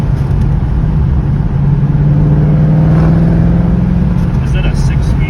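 A Ford Mustang accelerating hard, heard from inside as a loud, steady low engine drone that climbs gradually in pitch through a gear, continuous across the whole stretch.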